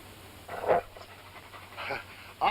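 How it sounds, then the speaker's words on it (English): Dogs pant in a 1947 Charlie Chan mystery film, The Chinese Ring. Three short bursts of rapid, breathy panting come close and fairly clear against quiet background hiss. "Watch them dogs."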